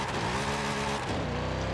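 A Chevrolet C8 Corvette Z06, a rear-wheel-drive mid-engine car in Forza Horizon 5, roars at high revs, then the pitch drops as it shifts or eases off, close and steady with no talking over it.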